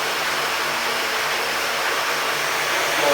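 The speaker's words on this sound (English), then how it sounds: "You'll hear the turbine gain speed" Small micro hydro turbine driven by irrigation water, starting slowly: a steady broadband whooshing rush with a faint hum, growing slightly louder toward the end, with no voices.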